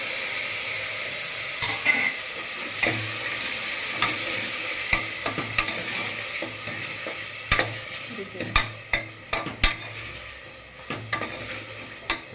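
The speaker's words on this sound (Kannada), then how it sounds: "ಅದ್ರ ಜೊತೆ ಟೊಮೊಟೊ ಹಾಕ್ತಿದ್ದೀನಿ ಟೊಮೊಟೊ ಚೆನ್ನಾಗಿ ಫ್ರೈ ಆಗಲಿ" Tomatoes fry and sizzle in a pan for a quick sambar, with a steady hiss under repeated close, sharp scrapes and clacks of stirring that grow busier toward the end.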